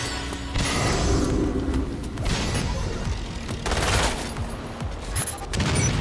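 Rapid bursts of automatic gunfire from a Resident Evil Umbrella Corps multiplayer match, crackling fusillades with dull thuds, fairly loud and continuous with short gaps, no talk over it.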